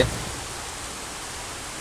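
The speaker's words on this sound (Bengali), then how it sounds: "দেখেন এই হঠাৎ করে আবার বৃষ্টি" Sudden rain falling on a village day, a soft steady wash of droplets without pause, faint and diffuse, with no voices.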